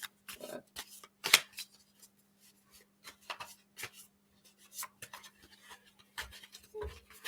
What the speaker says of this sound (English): I'm going to continue to shuffle so we can see what we got going on.